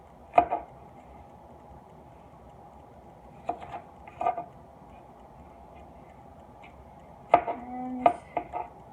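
A knife cuts through food on a cutting board in a home kitchen, with a few sharp, sparse knocks spread across the stretch and long quiet gaps between them, close and fairly crisp.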